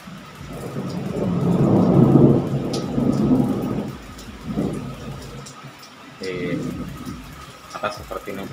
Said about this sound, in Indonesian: ini lagi hujan sobat